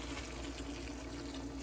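Water simmers and bubbles steadily in a pot for stir-fried chopsuey vegetables, a faint, even hiss and burble with no talking.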